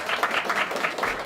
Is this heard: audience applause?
yes